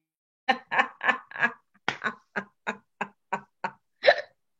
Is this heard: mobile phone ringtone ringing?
no